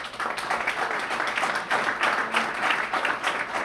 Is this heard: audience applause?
yes